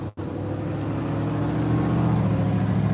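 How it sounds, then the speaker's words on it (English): A tan car's engine starts and settles into a steady, rising hum as the vehicle pulls away, loud and close. "This car is starting."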